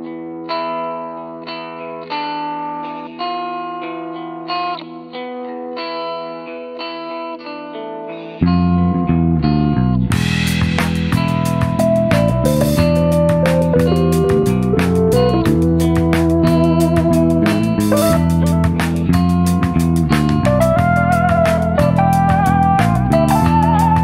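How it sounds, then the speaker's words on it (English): A VK-1 Viking synthesizer plays gritty, softly clipped tones driven through its filter circuit, starting with sparse sustained notes before a fuller, louder, distorted passage with rapid repeated notes takes over midway and continues to the end. "all the soft clipping you hear going on actually comes from the synthesizer's filter circuit"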